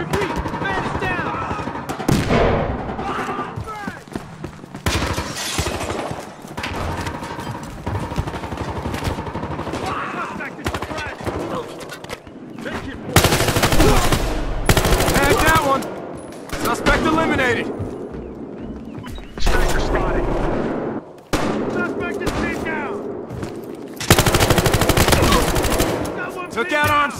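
Gunfire in Battlefield Hardline, with loud machine-gun bursts and single shots that come in waves along with heavy booming blasts. Shouted voices are heard through the firefight.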